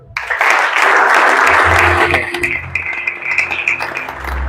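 A church congregation bursts into sustained, loud applause that holds for several seconds and then thins into scattered claps, with a low organ-like tone rising near the end.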